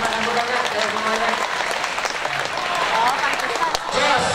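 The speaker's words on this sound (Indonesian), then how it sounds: "Oke, tepuk tangan semuanya." School audience at an Indonesian high school orientation event breaking into sustained, dense applause that fills the room for several seconds, steady and fairly loud, with indistinct voices mixed in underneath.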